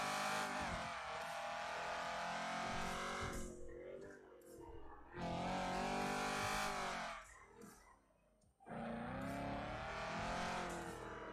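A fast car driven in a roleplay video game, its engine revving hard and climbing in pitch, then dropping off, twice over in loud close bursts separated by short quieter dips.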